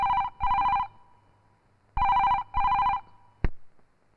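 A telephone rings in two double bursts of a classic electronic bell, loud and close, with a pause between pairs and a short click near the end; no one speaks.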